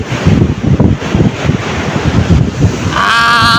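Sea surf at Kuakata beach crashes in a loud, rough wash heavily buffeted by wind on the microphone, with a brief tonal whine at the end.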